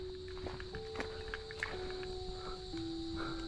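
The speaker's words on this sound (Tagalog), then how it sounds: "Sa ibang term, yung kuliglig. Yun, kuliglig. Naririnig nyo?" Crickets trill outdoors in a continuous, faint, high-pitched drone that runs steadily throughout, with light ambient clatter and scattered movement noises.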